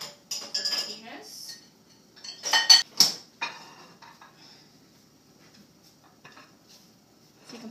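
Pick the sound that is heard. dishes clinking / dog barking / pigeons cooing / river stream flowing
dishes clinking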